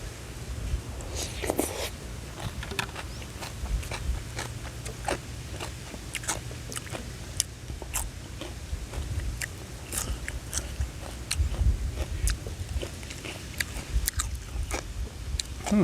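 Fried crispy Thai chip pom snacks crunched close up in repeated sharp bites and steady chewing, a dense run of crackly crunches with faint outdoor wind rumbling underneath.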